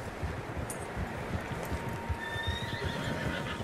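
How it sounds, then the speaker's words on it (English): Several horses on a trail in the Red Dead Redemption 2 video game, with a steady clatter of hooves on the ground and a clear neigh rising late, set against rustling outdoor wind. "Horses, quite a few of them."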